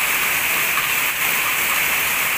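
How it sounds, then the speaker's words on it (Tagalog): Steady, dense rain hisses continuously and fairly loudly, a constant wash of falling water with no voices or other sounds on top. "Inabot na siya ng ulan."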